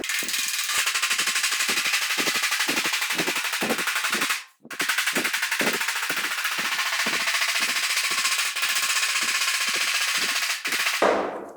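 Hammer striking a steel body panel held over a dolly during bending work on a 1940 Ford Coupe-inspired build, giving a fast, steady run of sharp metallic taps with one brief pause midway, loud and close with no talk.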